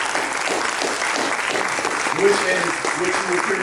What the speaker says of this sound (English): give a round of applause again for Greater Bethel